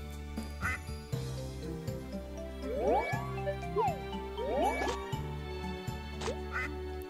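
A farm duck in Animal Parade quacks in several short bursts over a looping, chiming game melody, fairly close and clear, with no talking.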